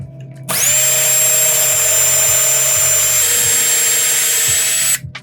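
A power drill starts abruptly and holds a steady high-pitched whine for about four seconds while boring a pilot hole into staircase wood, then stops.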